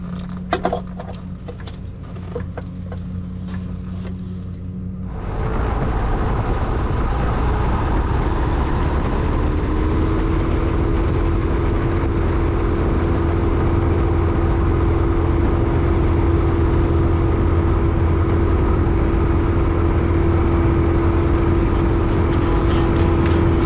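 An open cockpit airplane's engine runs near full throttle in flight, heard as a loud, continuous droning roar with a sustained steady tone and rushing wind. Quieter, clattering handling sounds come first before the engine noise rises and holds.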